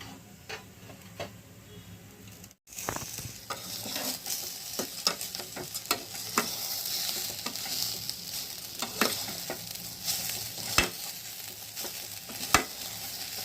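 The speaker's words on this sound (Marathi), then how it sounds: "आता आपण नारळ टाकून घेऊया आणि तो सुद्धा एक मिनटं चांगलं फ्राय करून घेऊया" Grated coconut fries in a pan for Konkan-style coconut rice, giving a steady sizzle with frequent sharp ticks and stirring scrapes after a brief pause near the start.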